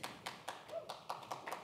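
Sparse, quiet clapping from an audience at a technology summit in Washington, D.C., heard as a handful of distinct hand claps in a loose rhythm, fairly distant.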